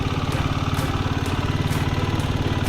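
A 125cc motorcycle engine runs steadily at low revs, its rapid even pulsing thrum close and continuous with no talk over it.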